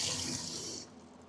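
Hot water pours steadily from a faucet into a sink, a close, rushing broadband stream that cuts off abruptly partway through, leaving quiet room tone.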